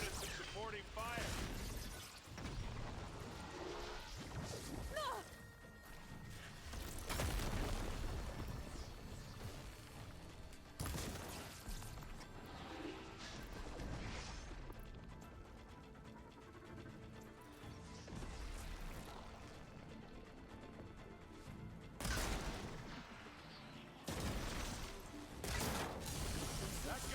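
In the Horizon Forbidden West video game, a fight is loud with supporting gunfire, crashing impacts and explosive bursts. The volleys and smashes recur throughout, mixed with voices talking during the battle.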